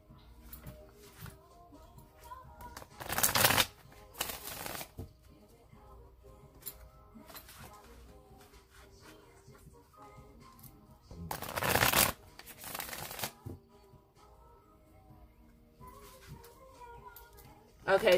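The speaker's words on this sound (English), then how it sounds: "I'm going to shuffle it three more times." A deck of playing cards is shuffled in two loud riffling bursts separated by quiet stretches, with faint background sounds and soft handling between them.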